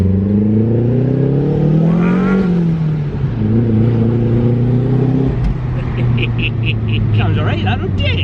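Mazda MX5 fitted with an M2 Motorsport exhaust driving on the road, engine note rising and falling steadily as it pulls through gears, close and loud throughout, with people talking over it.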